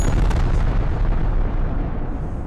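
A huge explosion sound effect for the birth of the Earth: a heavy, booming roar that starts at full force and slowly fades.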